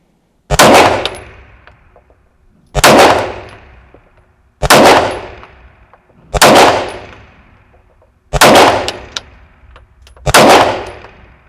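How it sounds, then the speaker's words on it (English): Springfield Armory Prodigy pistol fired at steel targets: six sharp, loud shots, each with a ringing metallic clang, spaced about two seconds apart in a steady rhythm, no talking. "The first thing I'm going to shoot is the Prodigy."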